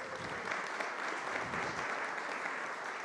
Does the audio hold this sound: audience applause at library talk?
yes